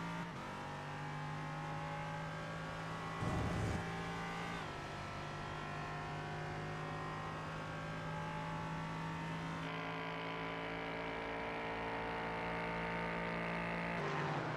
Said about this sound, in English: Get a little bit of that onboard sound from that LMP3